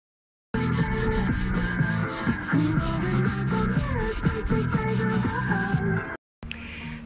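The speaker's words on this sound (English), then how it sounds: "So I'm almost done sanding the chair" Steady, rhythmic rubbing strokes of sandpaper on a wooden chair, close and continuous, ending with a brief pause and a short scrape.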